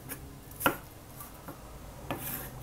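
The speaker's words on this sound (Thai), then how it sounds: "ก็หั่นตามชอบเลยนะคะใครจะหั่นแบบไหนก็ได้เนาะ" A knife chops bell peppers and king oyster mushrooms on a cutting board, giving a few sparse, separate cuts: one sharp near strike, then lighter taps spread over a couple of seconds in a quiet kitchen.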